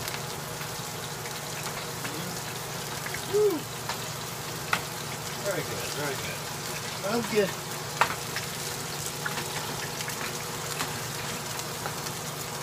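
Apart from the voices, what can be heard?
bacon popping while frying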